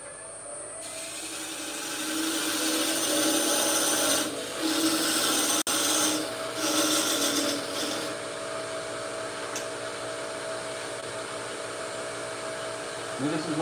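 Wood turning on a lathe as a one-handed parting tool cuts in to form the base of a wooden egg: a steady, loud scraping hiss with the lathe's hum beneath, briefly easing and resuming, with no talk.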